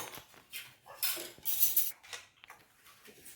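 Metal spoon clinks against dishes while homemade pasta with broccoli and red and yellow peppers is served, a run of light, close clatters in irregular bursts with short pauses, no talking.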